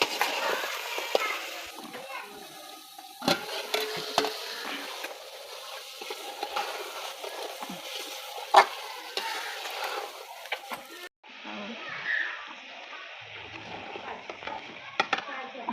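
Spinach and potatoes cook in a pot in a simple village kitchen while being stirred, with scraping, clinking and a soft bubbling sizzle over about fifteen seconds, and a voice in the background.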